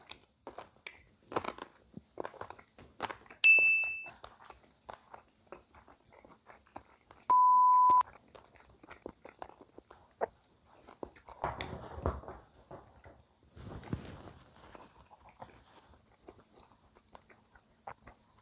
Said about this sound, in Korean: 제가 세다가 말하는데 아마 50번 이상 제가 씹었을 겁니다